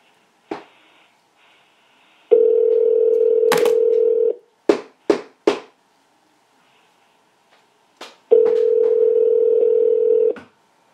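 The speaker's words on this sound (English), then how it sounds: "How many times we got to ring before we pick up the phone?" A radio call in which a telephone line is dialed and rings: sharp clicks, two long steady ring tones about two seconds each, and quick bursts of keypad beeps, loud and close with no talking.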